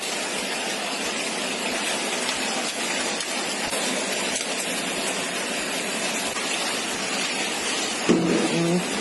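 A hailstorm in Khon Kaen pelts parked cars with a dense, continuous roar of impacts and sharp ticks, loud and close, as heavy rain-like hiss fills the whole scene.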